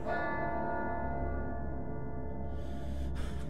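A deep church bell tolls once in a dark video game scene, its long resonant hum ringing out and slowly fading, close and loud with no voices over it.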